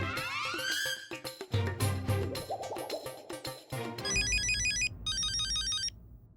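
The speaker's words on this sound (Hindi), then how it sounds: "मैं अब्दुल को फोन करता हूँ।" A phone rings with a bright electronic tone in two bursts, loud and close, following a busy stretch of mixed noises. It comes in a comedy scene as a caller phones a shop worker.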